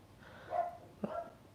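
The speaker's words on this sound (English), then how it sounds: "My poodle Winston is barking downstairs." A poodle barking from downstairs, two short muffled barks heard faintly at a distance indoors.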